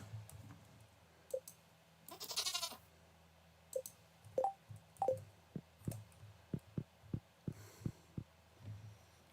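A goat bleats briefly in the video game Stardew Valley amid a steady hum, followed by a series of regular soft clicks or thumps.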